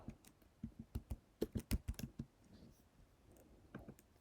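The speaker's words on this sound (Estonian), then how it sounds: "Siis ma kirjutan tabeli pealkirja" Typing on a computer keyboard while writing a table title in a Word document: a quick, close run of crisp keystrokes, then a pause and a few more taps.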